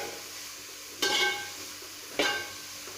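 Food for egg fried rice, seasoned with salt, is stirred in a pan: two short scraping sweeps rise over a faint, steady sizzle, with no talking.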